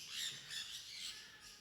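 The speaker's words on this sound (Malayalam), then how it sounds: "പലതരം തത്തകളുണ്ട്" Several kinds of parrots squawk at a Wayanad bird park, their harsh, shrill calls repeating over about two seconds at a moderate distance.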